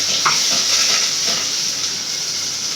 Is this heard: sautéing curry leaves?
yes